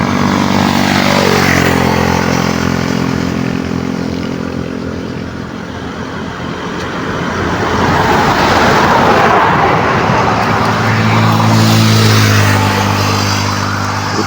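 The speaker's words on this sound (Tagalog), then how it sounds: "Grabe, bibilis ang mga sasakyan mga kalangga." Fast cars rushing past on a road, loud and close, with engine roar rising and fading as vehicles approach and pass, then another swelling by near the end.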